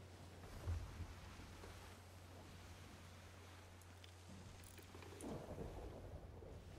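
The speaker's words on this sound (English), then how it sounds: "Oh, and there's a vicious storm coming" Stormy weather at sea in the pirate game Sea of Thieves, with a steady low rumble and a wash of rain-like noise, a brief thunder-like thump early on and a swelling surge near the end.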